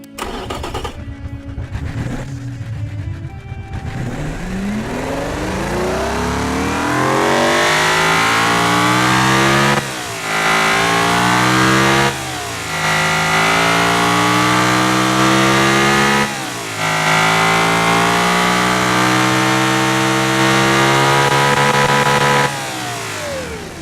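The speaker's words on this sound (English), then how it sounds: "Let us hear this beautiful 3-liter V12 first" A 3-liter V12 car engine revs repeatedly, its pitch sweeping up and falling back in several strong pulls after a rougher start, loud and close with no talk over it.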